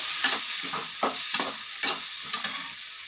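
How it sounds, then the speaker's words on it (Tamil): Tomato, onion, green chilli and curry leaves sautéing in a pan, a constant close sizzle broken by rhythmic scraping strokes of a spoon stirring about every half second. "நல்லா வதக்கிக்கலாம்."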